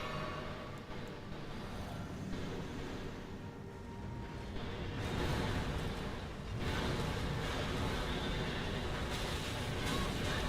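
A horse neighs in Elden Ring amid dense, loud game action, the whinny set against rumbling noise and bursts of combat sound, with a voice talking over parts of it.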